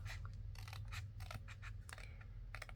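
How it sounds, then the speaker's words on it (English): Scissors cutting paper along a score line for a file folder insert, a run of quick, close snips in uneven clusters against a low steady hum, quiet and without speech. "So I'm just cutting on each side of my score line, or my ink line."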